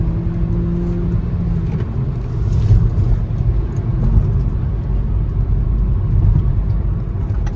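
A Kia Niro hybrid (1.6 GDI) drives along the road, its cabin filled with a steady low rumble of tyres and drivetrain that swells gently as the car accelerates, with no talking.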